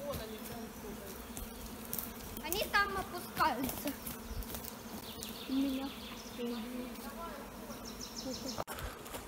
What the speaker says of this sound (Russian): прилетели. Пчелы, дикие пчелы.